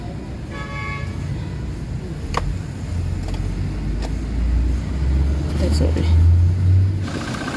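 A Toyota Fortuner with the 2GD diesel engine and an electrical fault code cranks and starts, settling into a steady low idle, with people talking over it.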